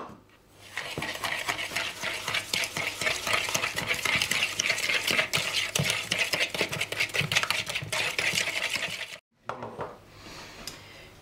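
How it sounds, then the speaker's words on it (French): Butter and sugar creamed together in a bowl, a steady, close scraping and whisking texture with quick repetitive strokes that runs nearly continuously before stopping abruptly near the end. "Une fois que tu mélanges ton beurre et ton sucre"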